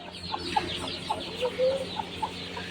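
A chick chirps outdoors, giving a series of short, high peeps at irregular intervals, fairly close and moderately loud, with a slightly longer call near the middle.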